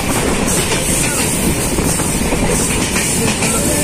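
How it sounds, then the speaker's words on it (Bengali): A passenger train picks up speed again after a stop at Bhanga station, a dense, steady rumble and rattle of wheels on rails filling the whole stretch with no break. "গাইস ট্রেন ভাঙ্গা স্টেশনে যাত্রা বিরতি করার পর এখন আবার ছুটে চলেছে"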